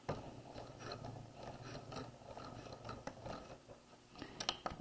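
Sewing machine back stitching along a skirt waistline facing, a quiet mechanical whir with soft ratcheting ticks, steady and faint, ending in a few sharper clicks.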